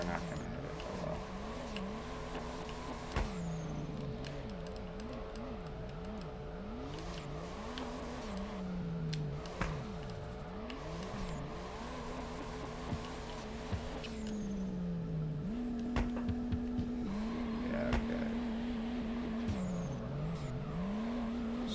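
Car engine revving and tires squealing in the drift video game Drift 21, the engine pitch rising and falling steadily through continuous sliding, with a high tone holding near the end, and no talking.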